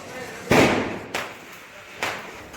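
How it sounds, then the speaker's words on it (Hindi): Neighbours set off firecrackers during Diwali in a residential lane, heard from a rooftop: three sharp bangs spaced about a second apart, each trailing off into a rumbling echo over faint background noise. "हो सकता है पटाखे की आवाज़ में मेरी भी आवाज़ कुछ दब रही है।"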